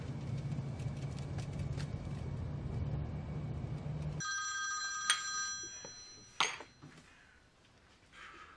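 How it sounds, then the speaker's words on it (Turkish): A telephone ringback tone repeats as an outgoing call is placed, a steady electronic ring sounding close after room noise cuts off, followed by a couple of brief clicks and handling sounds. "Şu Ziya'yı bir arayayım."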